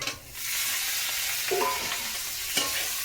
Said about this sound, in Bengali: কাঁচা লঙ্কা আর মাছ দুটোই আমি একসাথে দিয়ে দিচ্ছি